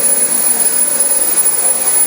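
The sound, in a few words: Dyson DC25 vacuum cleaner running without a filter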